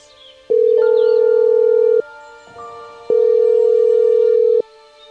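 A phone's outgoing ringback tone plays over speakerphone, two long steady beeps separated by a pause, clear and close in a quiet room.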